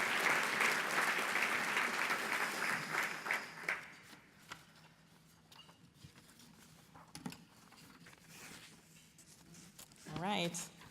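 Audience clapping after a song at a charity anniversary breakfast: a dense burst of applause at the start that thins out over a few seconds, followed by quieter room noise and scattered rustling.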